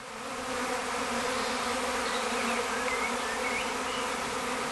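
A honeybee swarm buzzes in a continuous, droning hum that swells in slightly and holds steady, dense and fairly close, with no talk.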